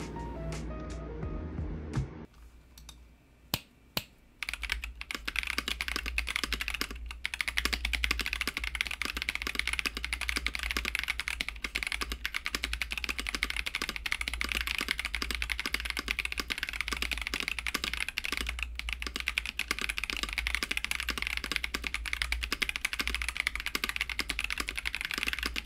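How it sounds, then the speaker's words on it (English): Mechanical keyboard with Kinetic Labs Salmon switches and Whale polycaps, fully stock, typed in a sound test: a few scattered keystrokes, then fast continuous clacky typing over a low steady hum, close and clear. "plug in the keyboard, and then we can do a little sound test"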